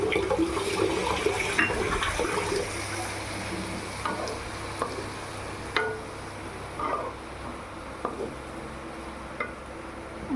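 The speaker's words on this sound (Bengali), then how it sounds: "এবার আমি পোস্ত বাটাটা দিয়ে দেবো। একটু সামান্য পরিমাণে জল দেবো।" Poppy seed paste and a little water go into a cooking pan, producing a steady close sizzle and bubbling with occasional soft clinks and stirring scrapes.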